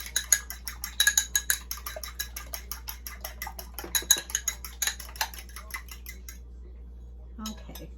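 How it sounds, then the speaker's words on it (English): Metal whisk clinking rapidly against a bowl while three eggs are beaten, a quick run of close, bright ticking strokes that slows and fades out near the end. "I'm going to whisk them up before I put them in."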